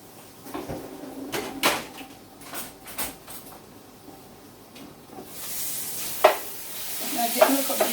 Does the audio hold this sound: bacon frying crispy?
yes